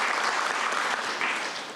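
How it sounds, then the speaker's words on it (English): An audience at a public health awards ceremony breaks into applause, a dense wash of clapping hands that holds steady and then begins to fade, with no voices over it. "Yes, that deserves applause."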